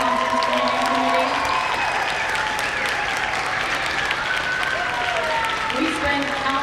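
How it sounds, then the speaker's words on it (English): An audience at a conference opening session applauds the planning committee, with steady, dense clapping filling the room and faint voices mixed in. "take a round of applause for our conference planning committee"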